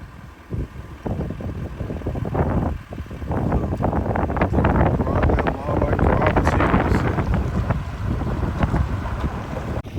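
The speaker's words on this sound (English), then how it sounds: "it is very windy out here on the prairie" Strong gusting wind on Cameron Prairie, Louisiana, buffets the microphone in heavy, rumbling blasts, with a person talking underneath.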